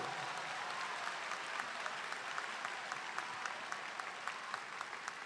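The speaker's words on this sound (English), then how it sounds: "Let's give them a round of applause they so deserve." Steady, dense applause from a large audience at a spring university commencement, honoring rising faculty members, with even clapping sustained throughout and no voices over it.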